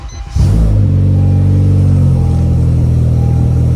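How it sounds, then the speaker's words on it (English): A 9th generation Honda Civic engine cranks briefly and catches, then settles into a loud, steady close-up idle with a smooth low hum that holds for several seconds. "I'm gonna start the car."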